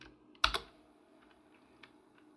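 A couple of sharp keystrokes on a computer keyboard as a name is typed, followed by one faint tap in an otherwise quiet room.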